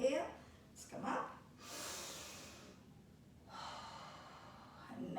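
Breathing during a seated yoga session, several audible breaths drawn in and let out through the nose and mouth, soft and close, with a longer airy inhale in the middle and quieter exhales around it.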